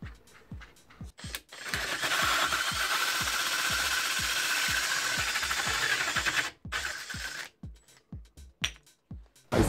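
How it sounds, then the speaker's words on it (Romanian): Bosch 64 mm core bit drilling through 12 mm drywall, a rough grinding whir lasting about five seconds over a steady drill motor pulse, with clicks and knocks before and after. "haideți să testăm într-o foaie de rigips de 12. O să folosesc direct carota de 64"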